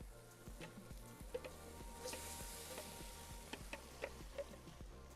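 Thick gravy is tipped into a sizzling smoked shepherd's pie filling, giving a steady, fairly quiet frying crackle with a rhythmic scraping stir and a few sharper spits and pops, with no talking.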